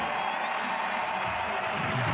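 A large crowd of spectators at an urban freeride mountain bike event in a town square, with a steady, dense wash of cheering and clapping throughout, fairly far off and continuous.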